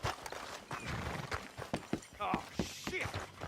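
Horses clop their hooves over the ground in an uneven, close rhythm, with a brief whinny partway through and voices mixed in.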